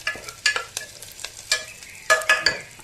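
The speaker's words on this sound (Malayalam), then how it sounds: "ഇതിലേക്ക് വെജിറ്റബിൾസ് ഇട്ട് കൊടുക്കാം" Vegetables tossed into a hot pan sizzle while a spoon stirs them, giving sharp intermittent scrapes and clacks over a soft, steady frying hiss, close up with no voices.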